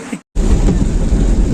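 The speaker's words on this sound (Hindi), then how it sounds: "बारिश अब तेज हो गई।" Heavy rain pours down in a steady, dense roar in Gurgaon, close to the microphone, with a brief cut near the start.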